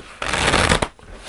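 A deck of tarot cards is riffled in one quick, close burst of crisp fluttering that lasts just over half a second, followed by a brief slap as the cards settle.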